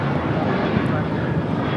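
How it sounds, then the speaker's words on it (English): A British Airways Airbus A380 arriving on runway 24 right at Los Angeles airport gives a loud, continuous low engine roar, with people talking over it. "Speedbird, A380 Super now next to arrive on 24 right"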